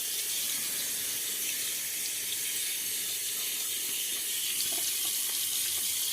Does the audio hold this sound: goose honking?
no